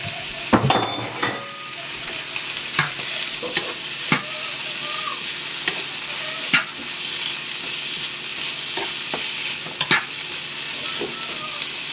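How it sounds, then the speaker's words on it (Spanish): Carrots and potatoes fry in a pan with a spoonful of salsa, giving a steady close sizzle broken by sharp spoon scrapes and clinks against the pan at irregular intervals. "Le voy a agregar una cucharada a mi sartén aquí, para que la zanahoria y mi papa agarren el sabor."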